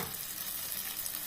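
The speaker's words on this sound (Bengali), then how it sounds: "সেই বাটাটা আমি এবার দিয়ে একটু কষাবো।" Spiced paste sizzles steadily in a hot pan with lote shutki (dried Bombay duck fish), a dense, even frying hiss that fills the whole short stretch with no voices.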